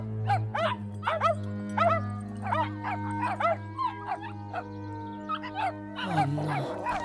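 Several dogs bark in quick, overlapping bursts, loud and close, with a steady low hum underneath and a brief scuffle near the end; no one speaks.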